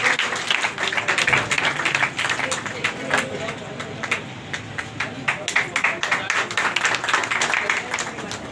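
An audience at a union's Diwali gathering claps continuously in dense, uneven applause, with a crowd murmur mixed in throughout.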